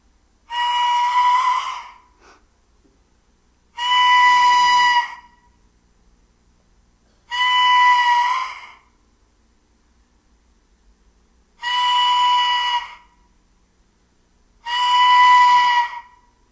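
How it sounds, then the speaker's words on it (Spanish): Replica Mesoamerican vulture (zopilote) whistle blown five times, each a breathy, hissing tone about a second long with a strong pitched core, separated by quiet pauses. "Este es del silbato del zopilote."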